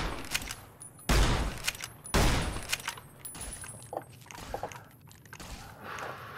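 Gunfire in Fallout New Vegas, with two loud, close shots about a second apart, followed by softer scattered cracks and clatter from the fight.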